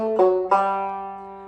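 A banjo plays the Galax-style hiccup lick from Cripple Creek: two sharply plucked notes in quick succession, close and clear, ringing out and fading alone.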